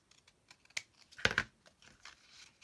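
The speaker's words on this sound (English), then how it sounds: "Let me cut off the bottom a little bit" Scissors snip through a paper book page close up, a few quiet, crisp cuts and rustles with one louder crunchy cut near the middle, alone without talking.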